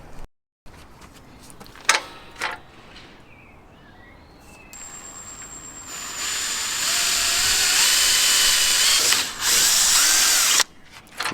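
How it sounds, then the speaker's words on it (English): Power drill boring holes for M6 rivet nuts during a turbocharged Honda Integra DC5 build, starting with short bursts before a long sustained whine that runs close and loud with brief pauses. "we're going to drill it out as small as possible, M6 I believe we've got to get to"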